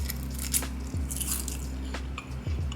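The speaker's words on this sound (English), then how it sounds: "Listen to this crunch." Oven-baked kale chips give a few quiet, brittle crunches as they are bitten, with soft chewing between the bites and a low background hum.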